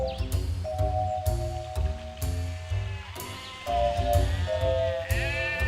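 A goat bleats repeatedly and close by, several wavering, nasal calls one after another with short gaps, heard alone without talk.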